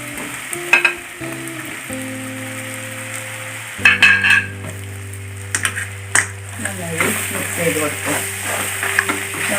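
Fried chicken for kadai chicken sizzles in a pan while a utensil stirs and scrapes through it in bursts, with a steady low hum running underneath.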